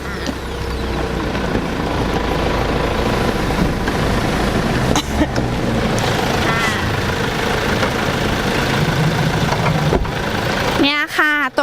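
A 2023 Mazda 2 1.5 XDL diesel turbo engine runs with a steady, fairly loud idle that carries through the whole stretch, with people talking over it.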